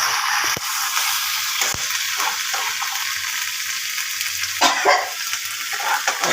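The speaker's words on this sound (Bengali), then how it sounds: "লঙ্কাটা কষানো হয়ে যাচ্ছে ঝোলের মধ্যে।" Chili paste cooking down in a green fish curry gravy, giving a loud, dense continuous sizzle and bubbling up close, with a few short clicks and scrapes breaking through.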